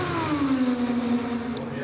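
An IndyCar race car at speed during Indianapolis 500 qualifying, a loud sustained engine whine that drops in pitch as it passes, with a commentator talking over it.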